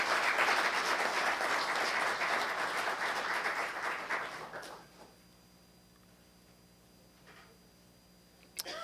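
A hall audience at a city's State of the City address gives a round of applause for a city councilman, loud and dense for about four seconds, then fading quickly into near quiet with a few scattered claps.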